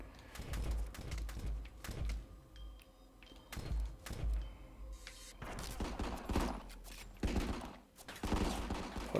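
Enemy gunfire in the video game RICO, with rapid bursts of shots cracking out repeatedly in clusters, fairly loud and close, along with sharp clanks and thuds between the volleys.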